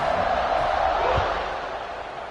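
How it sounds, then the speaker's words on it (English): A stadium crowd at a football game buzzes in a dense, continuous roar right after a score, steady and full with a faint thump midway, easing slightly toward the end. "this crowd is buzzing after that last score."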